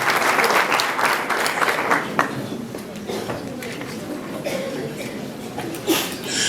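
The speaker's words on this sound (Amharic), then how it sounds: "ሞቅ ያለ ጭብጨባ ያስፈልጋል" An audience at an Orthodox Christian teaching session applauds loudly at first. The clapping gradually thins out into scattered claps, with a few chuckles and voices in the background.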